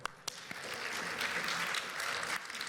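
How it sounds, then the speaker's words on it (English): An audience at a live Pokémon event at PAX East 2022 applauds steadily, a dense wash of clapping that swells after a couple of sharp early claps and holds throughout. "Let's hear a round of applause for him."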